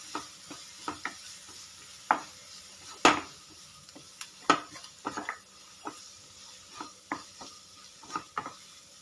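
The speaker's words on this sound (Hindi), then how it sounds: "इन सब चीज़ों को हम मिक्स कर लेंगे।" Pav bhaji masala, chilli powder and spices are stirred together in a pan for Mumbai street-style masala pav, giving soft irregular scrapes and taps of a spoon against metal over a faint sizzle, close and quiet, with no talk.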